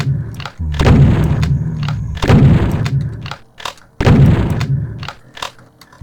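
Loud, booming gunshots ring out in a DOOM WAD as a basic monster is shot; three heavy blasts each decay into rumble, with a few sharper clicks between them.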